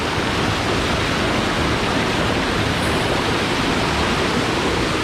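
Seethammakund waterfall in Wayanad with the river swollen by rain, a loud, unbroken broadband roar of rushing water close by, filling the whole stretch without pause and with no voices.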